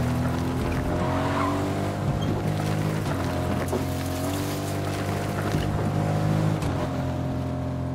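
Game car in Fortnite driven steadily with a continuous engine drone and tonal hum, occasional tire squeal or skid, loud and close throughout with no pauses.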